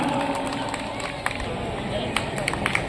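Festival audience at a Harela celebration breaking into applause, steady clapping with sharper individual claps amid crowd murmur, moderately loud and continuous.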